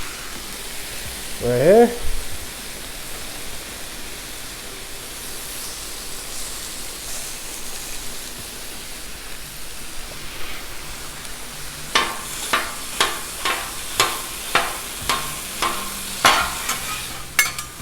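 Chorizo fries on a hot Blackstone griddle with a constant broad sizzle, joined in the second half by a run of sharp, regular scraping taps from a spatula; a brief voice speaks near the start.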